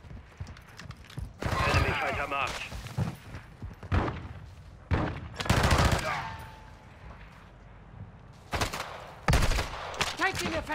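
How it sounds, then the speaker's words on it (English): Bursts of automatic gunfire in the Call of Duty MW2 DMZ mode on Ashika Island, loud clusters of shots separated by short gaps, with players talking over the firefight. "Taking effective fire."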